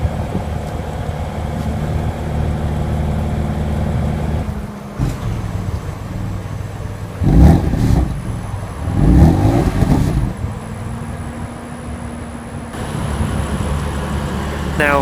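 A 2015 BMW M4 coupe with its 3-liter twin-turbo inline-six idles with a low steady exhaust drone, then gives two sharp rev blips close by before settling back to idle.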